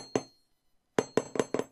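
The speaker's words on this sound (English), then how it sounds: "The main reason for this hammering is to work hard on the wire so that it will stay in shape." Raising hammer striking wire on a metal block while shaping a wire-wrapped pendant: one sharp ringing strike, a pause, then five quick metallic blows in rapid succession, close and clear.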